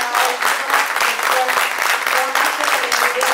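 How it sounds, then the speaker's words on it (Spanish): An audience at the 2019 International Book Fair in New Jersey claps in sustained, dense applause that stays steady and fairly loud throughout, with no voices standing out. "Un aplauso para todos."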